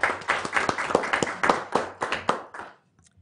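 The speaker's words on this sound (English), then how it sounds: "So let's give a round of applause for Sean in his absence." Audience applause at a city council meeting: a burst of steady hand clapping from a modest crowd lasting under three seconds, then stopping abruptly, with a few faint stray sounds afterward.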